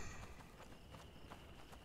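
Horse hooves in the game A Plague Tale: Innocence, a quiet steady run of soft clip-clop steps repeating at an even pace beneath a faint ambient background.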